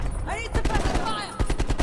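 Rapid automatic gunfire crackles through a firefight in Call of Duty: Black Ops Cold War, with dense repeated shots and explosive bursts close and loud throughout.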